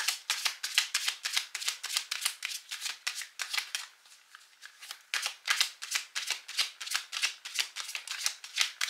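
Oracle cards from a mirror-themed deck being shuffled by hand: a steady run of crisp riffling swishes, close and fairly loud, with a brief lull midway before the shuffling resumes, no voices.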